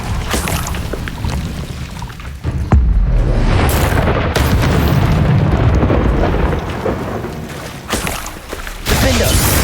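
Confringo explosive spells go off in Hogwarts Legacy as loud, booming blasts with a rushing, crackling tail, several bursts in succession over continuous dense combat noise.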